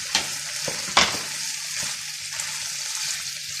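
Garlic sizzling in hot oil in a pan for a chicken tikka masala, with a few sharp stirring clatters over a continuous fry hiss, close and moderately loud.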